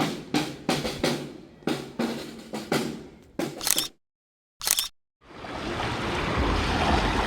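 Surf washes onto a beach at sunset in Dubrovnik, Croatia, sounding as a series of uneven wave rushes and bursts, then a sustained steady wash with some wind buffeting near the microphone, with no talk.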